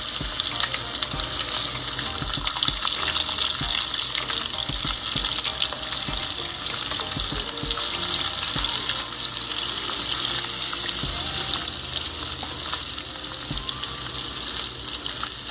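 Egg frying in a pan over a low flame for a South Indian egg pepper thokku, giving a loud, steady, close hiss and crackle that holds throughout.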